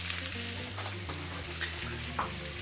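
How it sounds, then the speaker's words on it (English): Sliced onions sautéing in a home kitchen pan give a steady, close sizzle and crackle throughout, with light stirring and a low tonal hum underneath. "My husband is cooking up my favorite thing ever, which is just sauteed onions."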